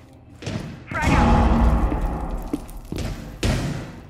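Frag grenade explosion in the Rainbow Six Siege video game, a loud deep thud that booms and rumbles for about two seconds, followed by further heavy thumps, with in-game voice callouts around it.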